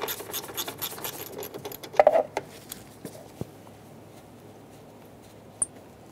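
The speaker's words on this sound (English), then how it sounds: "Using a 10mm socket, remove the bolt for the coolant tank." A 10mm socket ratchet loosens a coolant tank bolt with a quick, fast clicking burst that fades into a few scattered soft taps and light metallic ticks, close and quiet.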